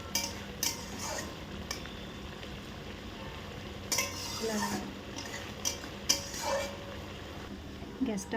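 Prawn curry with ground cumin and garam masala bubbling in a pan, a busy low sizzle under repeated scraping and clinking of a spoon stirring against the metal, with faint background voices.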